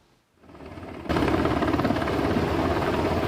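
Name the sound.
helicopter landing during nuclear safety drill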